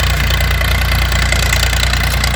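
A tractor engine runs steadily at idle on a village farm field, a loud, continuous low throbbing with a regular knocking pulse and no speech.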